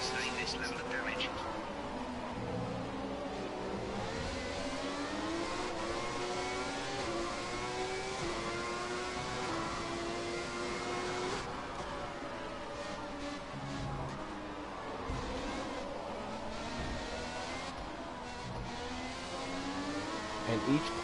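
Formula One racing cars in the F1 2017 game on PS4, engines whining and rising through gears in long sweeping pitch runs, steady and fairly loud with a voice talking over parts of it.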